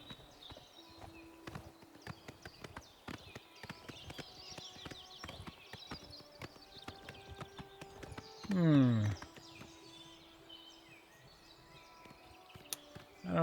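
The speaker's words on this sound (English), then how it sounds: "Glad the horse showed up again." Horse hooves clip-clop at a steady pace in Oblivion Remastered, close and moderately loud. A brief, louder tonal call that may be a whinny cuts in partway through before the hoofbeats carry on.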